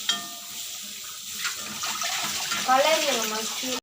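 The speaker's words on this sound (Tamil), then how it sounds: "கொஞ்சமாக தண்ணி ஊற்றிக்கலாம்." Water pours steadily into a pan while cooking a prawn fry, a continuous splashing rush with a brief voice rising over it near the end.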